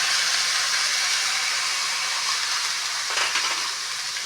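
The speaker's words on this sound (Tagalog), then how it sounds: "ilagay na rin natin yung igisa na rin natin yung hipon niya" Shrimp sautéing in a pan for a jackfruit and coconut milk dish, giving a steady, close sizzle and hiss throughout with a brief burst of louder crackle near the end.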